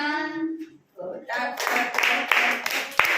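Children and adults at a devotional song gathering clap along in rhythm, a series of sharp, fairly close claps beneath their singing voices.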